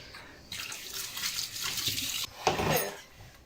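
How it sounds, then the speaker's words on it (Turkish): Running tap water splashes over hands being washed at a kitchen sink during home baking, a steady close rush that briefly cuts off and resumes before stopping. "ellerimi bir yıkayayım"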